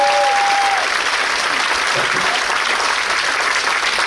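An audience at a live Irish folk cabaret show applauds, a dense, loud, steady wash of clapping from a large crowd sustained throughout.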